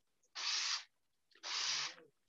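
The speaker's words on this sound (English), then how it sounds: "and we spray that down" Two short bursts of a hand spray bottle misting water over colored rangoli powder, close and crisp, with a brief pause between them.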